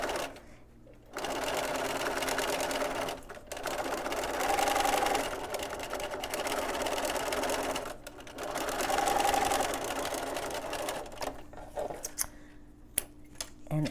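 A sewing machine runs in steady bursts while stitching a zippered head cover, its close mechanical whirr pausing briefly between runs, with a faint voice at times and some clicks near the end.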